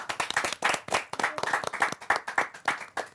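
A live audience claps to welcome the cast of the Gujarati film Katlaa Curry, giving dense, close, continuous hand-clapping with a brisk uneven rhythm and no talk over it.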